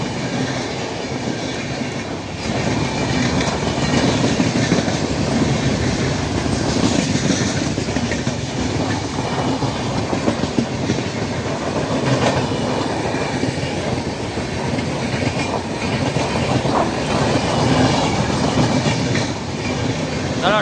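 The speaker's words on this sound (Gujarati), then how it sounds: "ચલો ટ્રેન વહી ગઈ છે।" A train bound for Ramdevra runs past on the rail tracks, a loud, continuous rumble with clickety-clack wheel beats and faint wheel squeal. The noise holds steady and close for about twenty seconds.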